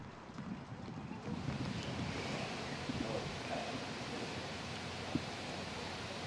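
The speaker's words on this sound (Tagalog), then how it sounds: "ramdam pa rin ang hagupit ng babugso-bugsong hangin at na may kasamang ulan na dala itong si Bagyong Nando" Gusty wind and rain from Typhoon Nando make a steady, dense roar that swells slightly, with a brief sharp gust or knock near the end and no voices.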